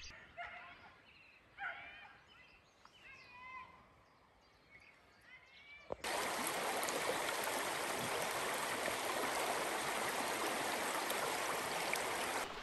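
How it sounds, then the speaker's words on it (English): River Breamish flowing beside a campsite, a steady loud broadband rush of running water that fills the second half after quieter outdoor sounds with brief dog yips early on. "So just behind me is the River Breamish, and this runs alongside the site."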